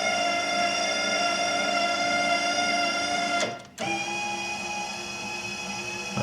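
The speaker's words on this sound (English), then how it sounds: "I have another actuator on the bottom there." An electric actuator on a tractor snow thrower inside a tractor cab hums steadily under a constant mechanical drone. A brief dropout breaks the sound, then the hum resumes at a slightly lower, altered pitch.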